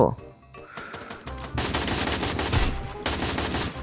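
Rapid gunfire from the battle royale game Free Fire, dense sustained bursts growing loud from about halfway through, with a quieter lead-in of scattered shots and game noise before the firing takes over.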